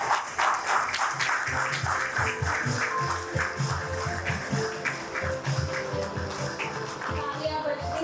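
An audience applauds at a business excellence awards ceremony in Raipur, a steady wash of clapping that continues under music and ambient hall noise.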